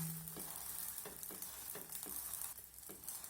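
A paratha fries in a hot pan while being pressed down again and again, giving a steady near sizzle with soft periodic pressing scrapes roughly every half second.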